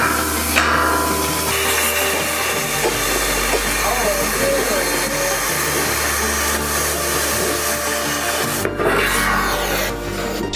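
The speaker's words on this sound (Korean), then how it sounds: "재단된 빔은 절단 작업을" A steel H-beam for a building column is cut on a construction site, giving a loud, continuous broadband hissing and rasping roar that runs the whole time, with a voice faintly audible beneath it.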